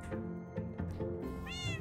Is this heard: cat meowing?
yes